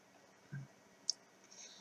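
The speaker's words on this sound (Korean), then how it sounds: "이 빈 부분을 클릭을 해서 마우스를 풀어줍니다." A single sharp computer mouse click, quiet and crisp, preceded by a soft low thump against faint background hiss.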